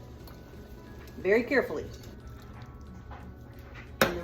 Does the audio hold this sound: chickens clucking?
no